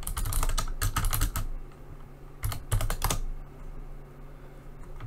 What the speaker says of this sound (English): So let's just type in Laugh It Up.